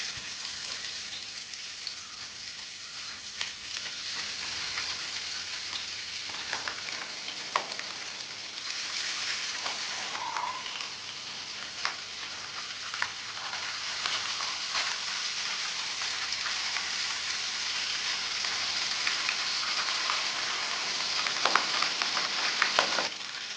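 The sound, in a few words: pabda fish frying in mustard oil in a frying pan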